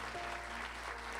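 A church congregation at a Sunday sermon claps in a dense, steady wash of applause that fills the room evenly for the whole moment.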